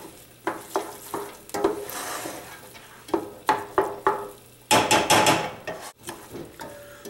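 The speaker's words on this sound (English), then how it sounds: "now this is gonna saute for at least 5, probably closer to 10 or more minutes. Stirring fairly frequently." Onions sauté in a hot pan with a soft sizzle while a utensil scrapes and stirs them in repeated uneven strokes, loud and close, with no voices.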